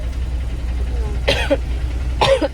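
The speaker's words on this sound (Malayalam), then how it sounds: "ഞങ്ങൾക്ക് ചുമയുണ്ട് നല്ല കുത്ത ചുമ" Two short, harsh coughs about a second apart over a low steady rumble, fairly close to the microphone.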